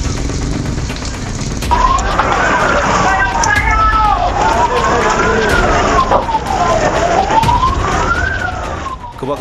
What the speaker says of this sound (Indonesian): 5 unit armada pemadam kebakaran dikerahkan ke lokasi.